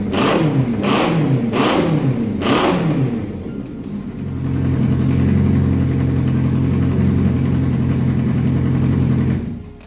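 A Honda CB 750 cafe racer motorcycle engine, custom-built, revs sharply four times in quick succession, then settles into a loud, steady, throbbing idle close by.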